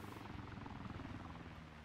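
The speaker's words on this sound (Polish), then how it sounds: "Wraca ten troll samolot." A propeller aircraft drones overhead in the DayZ Battle Royale video game, a steady throbbing hum, loud and brief, with no talking.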